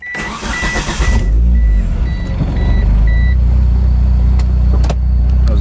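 1995 Suzuki GSX motorcycle engine running loud and close, a steady, heavy rumble that swells after a short buildup. Repeated electronic beeps sound over it during the first few seconds.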